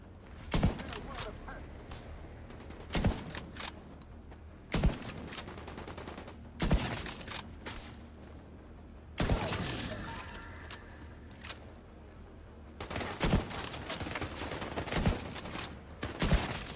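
Video game gunfire rings out in sharp separate volleys of cracking shots, each burst loud and close, spaced a second or two apart with quieter game ambience between them and occasional talk mixed in.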